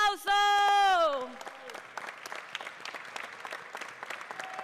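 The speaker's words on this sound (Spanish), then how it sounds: "3, 2, 1, un fuerte aplauso." An audience breaks into applause for the FIFA World Cup 2026 trophy visiting Guadalajara, Mexico. The clapping is steady and fairly distant and continues for several seconds after a short burst of tonal voice or jingle at the start.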